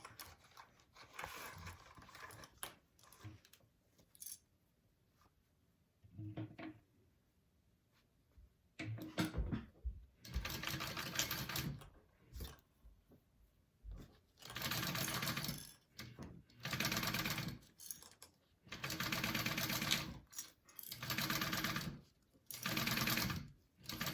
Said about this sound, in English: go ahead and sew this piece on.